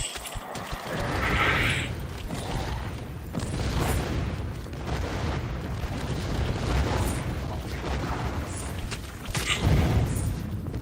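Explosions in the VR shooter In Death: Unchained, a string of booming blasts and rumbling bursts layered over continuous game noise, loud and close throughout.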